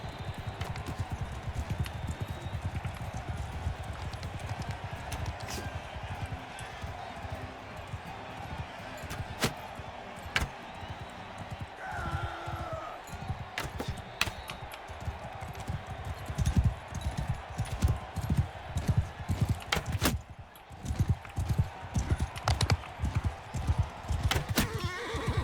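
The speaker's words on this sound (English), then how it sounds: "I didn't mean to hit the horse" Horse hooves gallop in a steady, loud clip-clop through Mount & Blade II: Bannerlord's steppe battle, with an occasional whinny and combat thuds mixed in across the whole stretch.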